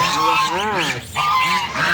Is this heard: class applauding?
no